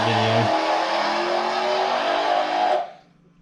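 A race car with a freshly built Ford 408 small block engine runs loud and steady at high revs, a deeper idle-like tone dropping away early, then the roar cuts off abruptly near the end, leaving near silence.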